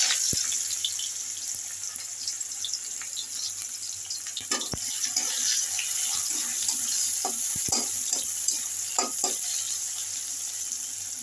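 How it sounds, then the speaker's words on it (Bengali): Onions going into hot oil in a home kitchen pan while cooking a Bengali egg and soya potato biryani, a steady crackling sizzle throughout with scattered sharper pops and stirring clicks, close and continuous, no talking. "তেল আমার গরম হয়ে গিয়েছে, এবার পেঁয়াজগুলো দিয়ে দিচ্ছি"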